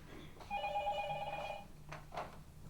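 A telephone rings once with a bright warbling trill, followed by brief quieter sounds against a faint room hum.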